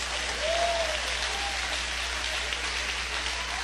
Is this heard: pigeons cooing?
no